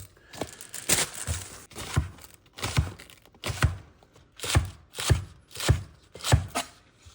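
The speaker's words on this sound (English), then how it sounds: "Let's start with some green onion." Green onions chopped with a knife on a cutting board, producing a series of crisp, close thunks and crunchy slices in a loose, steady rhythm with nobody talking.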